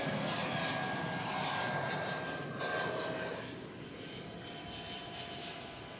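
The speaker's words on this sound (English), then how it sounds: "Arriving from Salt Lake City in Airbus A319 flight 2811." A Delta Airbus A319 arriving at DFW Airport at night roars past as a broad, steady jet engine rush with a thin whine, loud at first and then easing off as it moves away.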